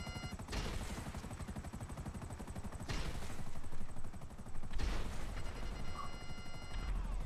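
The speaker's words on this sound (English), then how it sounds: "Set the rockets free. So everything in there gets destroyed." Rockets firing and exploding in GTA Online, a dense stream of rapid repeated blasts with a deep rumbling roar that surges in waves, loud and close, with no talking.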